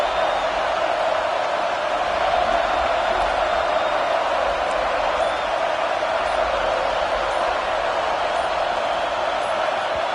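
A stadium crowd in a CFB25 college football game roars steadily throughout, a dense, loud, unbroken wall of noise under a faint voice.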